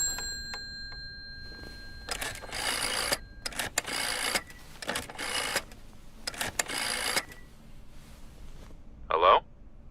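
A telephone is dialed in the video game Layers of Fear: several bursts of mechanical whirring and clicking spread over a few seconds, with short pauses between them, then a brief tone near the end.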